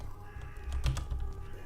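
A bird caws in the Elex II game, a few faint, short harsh calls over a quiet low rumble.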